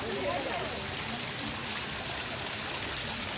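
Water pours down a waterfall at Chikli water park, a soft, even rushing hiss that holds steady throughout without any break.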